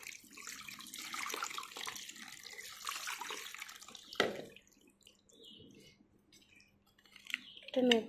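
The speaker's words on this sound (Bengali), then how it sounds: "এবারে একটু পরিষ্কার জল দিয়ে ধুয়ে নেব, উষ্ণ গরম জল দিয়ে।" Warm tap water rinsing a gas burner at a kitchen sink, a steady close splashing flow for several seconds that drops away, followed by quieter drips and a brief clatter near the end.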